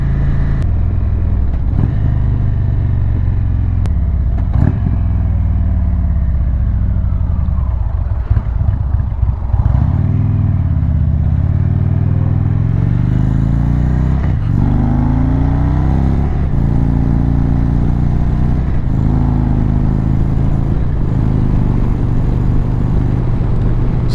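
An Indian Thunderstroke motorcycle fitted with a Rinehart slip-on exhaust accelerates along a road, heard from inside the helmet as a loud, deep, rising engine roar that drops at each gear change and climbs again, with wind noise throughout.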